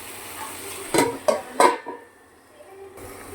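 Clanks and scrapes of a plate being set over a pan of cooking chicken as a lid, three sharp metallic knocks close together, then a quiet faint sizzle.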